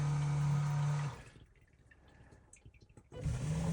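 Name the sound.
toilet flushing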